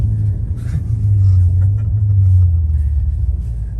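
Dodge SRT8 car engine bouncing off the rev limiter, a loud close low rumble that pulses and stutters in a steady band for a few seconds before easing off.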